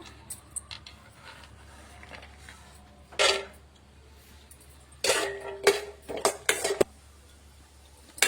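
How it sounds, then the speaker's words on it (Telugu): Peanuts are tipped into hot oil in a pan, giving a short rattling burst, a quiet pause, then a longer run of clattering, skittering bursts against the metal over a low, faint background hum; no one speaks. "ముందుగా పల్లీలు వేస్తున్నాను"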